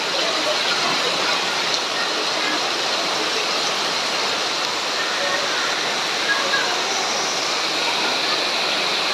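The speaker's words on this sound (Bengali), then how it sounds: "সন্ধ্যাটা বৃষ্টি শুরু হয়ে গেলো" Heavy evening rain pours down in a continuous, dense roar that stays loud and even throughout, with voices faintly beneath it.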